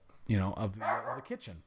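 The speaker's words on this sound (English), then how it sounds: "That was my dog." A household dog barking and yipping indoors, a few short close barks overlapping with a person talking.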